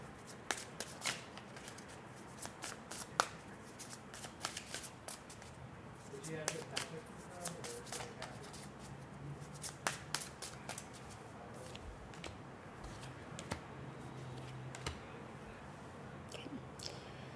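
Tarot deck being shuffled for a reading, with a continuous run of crisp card riffles and flicks, close and fairly quiet, interrupted by occasional soft murmured talk.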